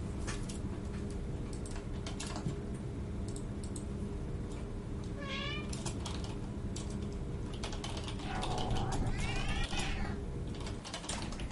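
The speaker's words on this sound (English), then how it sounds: "Yes, my cat's called Ajax" A cat meows twice indoors, first a short call and later a longer one, under a constant mechanical rattling and clicking background.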